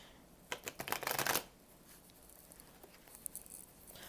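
Tarot cards being shuffled: a quick, crisp riffling burst of flicking cards, then softer, scattered patter as the deck is handled, close and quiet with no talking.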